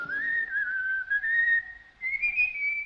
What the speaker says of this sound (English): Listen, isn't that somebody whistling?